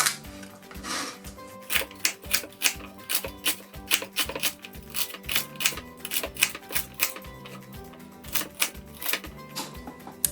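A knife chops vegetables such as leek into mid-sized pieces on a board for soup: a steady run of crisp, close, even-paced knocks with no talk.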